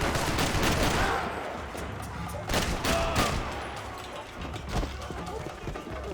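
Gunfire from the video game Max Payne 3, with repeated sharp broadband bursts and scattered shots over a dense, noisy game soundtrack.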